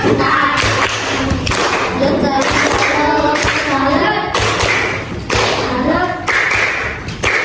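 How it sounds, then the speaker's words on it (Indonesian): Students in a classroom clap for a group, a busy, uneven patter of hands with thuds and taps mixed in, while voices talk and call out over it. "Kita beri tepuk tangan."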